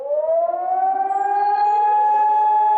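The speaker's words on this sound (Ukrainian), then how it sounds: "Тільки дістаємося, лунає повітряна тривога." Air raid siren sounding during a Ukrainian air alert, a loud, sustained wail whose pitch slowly rises and holds steady, with no other sound over it.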